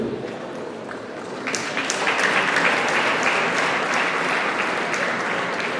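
Audience at a school sports opening ceremony breaks into applause, a dense crowd clapping that swells louder partway through and stays strong to the end.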